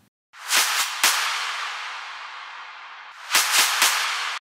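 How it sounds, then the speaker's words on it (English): Two bursts of sharp, layered claps, each followed by a long noisy wash that sustains and then cuts off abruptly, loud and close, in an electronic music production. "Then I also added this clap fill right here."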